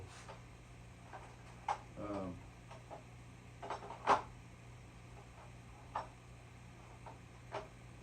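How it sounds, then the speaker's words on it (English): A torque wrench being reset back to zero on a small engine repair bench, giving a series of faint, sparse clicks and ticks spaced a second or so apart in a quiet room. "I'm trying to reset the torque wrench back to 0"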